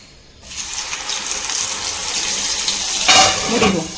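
Water is poured into a mixer jar while making chutney, starting abruptly as a steady close gush that grows louder and splashier near the end, with no talking.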